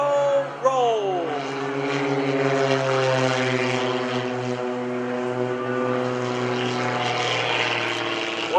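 Propeller aerobatic airplanes fly a barber pole roll at the Greenwood Lake airshow, a loud continuous engine drone with a steady pitch that shifts slightly as the planes pass, and a commentator talking over it.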